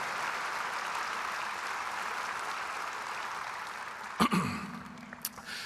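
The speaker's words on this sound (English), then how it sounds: "please give us a big round of applause for Kirby Nelson" Sustained applause from an audience at a public memorial service in Winnipeg, a steady wash of clapping that cuts off near the end with a brief sharp noise and a quiet hum.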